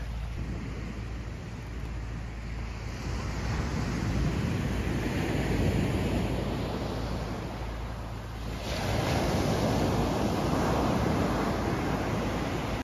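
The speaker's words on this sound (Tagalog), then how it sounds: "We're here at the beach." Waves washing onto a beach, a broad steady roar of surf with wind noise, swelling slightly louder toward the end, no voices.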